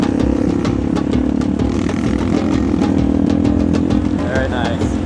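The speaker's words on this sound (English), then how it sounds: "riding the motorcycle like a pro" A motorcycle engine hums steadily at close range as it rides along in Java, Indonesia, with a voice speaking briefly over the motor noise.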